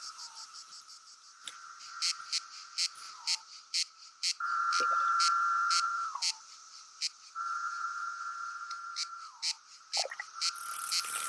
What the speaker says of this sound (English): And still the cicadas come.